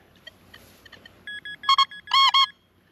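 A Nokta Legend metal detector sounds a few short, bright tonal beeps on a non-ferrous target outdoors, rising in loudness, with faint background noise before the tones.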